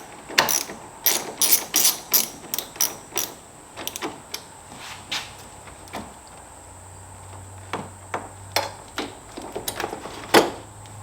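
A ratchet wrench turns a 10mm battery terminal nut on a Ford Ranger with a 2.2 or 3.2 engine, giving rapid bursts of close, loud clicking that slow into sparser single clicks, with no talk.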